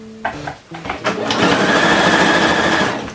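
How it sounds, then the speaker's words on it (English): A sewing machine runs a normal straight stitch along the hem of a jersey skirt, over an overlocked edge. A few short clicks come first, then a steady close whir holds for about two seconds. "put it into the machine, just a normal stitch"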